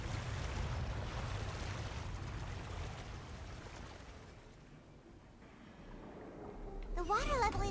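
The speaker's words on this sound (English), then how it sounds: "The water level is rising." A steady wash of rushing, churning water as the water level rises in a Fontaine game quest, gradually easing before swelling again near the end with a few tonal game chirps.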